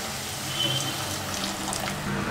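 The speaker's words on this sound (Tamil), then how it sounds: "இப்போ ஒரு அரை டம்ளர் தண்ணி ஊற்றிக்கலாம்" Half a tumbler of water pours into a pan of sautéed vegetables for bread Manchurian, a steady close splashing stream lasting the whole moment with no talk over it.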